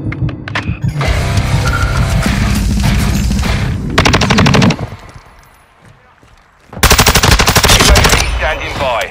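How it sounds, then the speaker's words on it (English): Rapid automatic gunfire from the Call of Duty: Modern Warfare II video game, loud and close, in sustained rattling bursts broken by a brief lull, with a voice talking partly under the shooting. "I'm taking fire."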